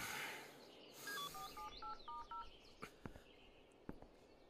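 Mobile phone keypad tones beep in a quick run of about eight short dialing notes, followed by a few faint clicks in a quiet room.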